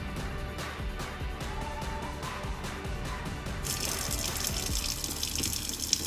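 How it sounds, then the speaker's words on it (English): Strawberries washed under a running kitchen tap, a steady stream of water splashing into a sink with small clatters, growing brighter and fuller partway through, close and continuous with no talking. "let's wash strawberries"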